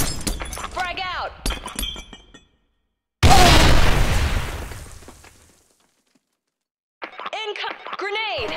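A grenade goes off in a shooter video game: one loud shattering blast that rumbles and fades over about two seconds, set between stretches of game voice chatter before and after.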